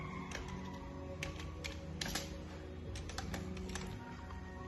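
Fingers tapping out a plate number on a computer keyboard, a short irregular run of light, quick clicks, close but quiet, over a steady background hum with no talking.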